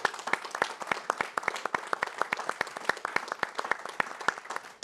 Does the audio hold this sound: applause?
yes